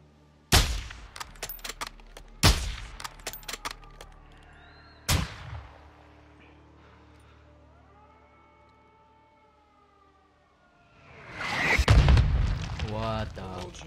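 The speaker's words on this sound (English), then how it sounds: "Launching mortars, don't stay in one place." Mortar launches and explosions in Call of Duty Modern Warfare 2 strike as three sharp booming blasts with crackling gunfire between them, then a long wailing siren, and finally a heavy rumbling explosion builds and fades.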